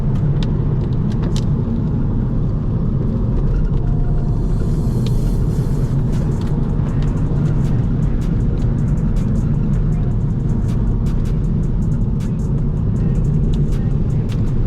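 A 2006 Volvo V50 T5 4WD wagon with a six-speed manual drives a mountain road, its engine droning steadily under constant road and tire rumble from inside the cabin.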